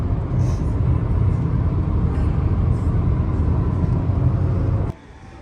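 Steady car road noise from a VW Jetta cruising on a long highway drive: a constant low rumble of tyres and engine heard from inside the cabin, cutting off abruptly near the end.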